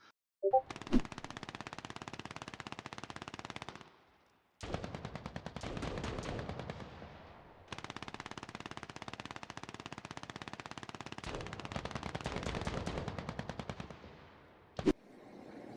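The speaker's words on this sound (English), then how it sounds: "it's going to play some of the sounds that you will now hear when listening to distant gunshots" Distant gunfire from the video game Fargone: long bursts of rapid automatic shots rattling continuously in several stretches separated by short pauses, with a few isolated single cracks, muffled and far away.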